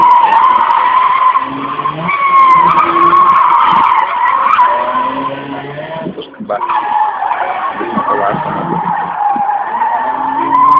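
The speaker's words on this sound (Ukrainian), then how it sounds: "автомобіль власного виробництва університета Олександра." University-built car skidding through an autoslalom run in Ivano-Frankivsk, tires squealing in long wavering bursts with engine noise, nearly continuous for ten seconds with a brief lull midway, an announcer's voice faint beneath.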